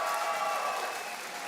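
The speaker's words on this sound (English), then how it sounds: "Give them a round of applause, guys." Audience applause at the Nintendo European Championships 2023 gaming event: a steady wash of clapping from a crowd in a hall, sustained and fairly loud throughout.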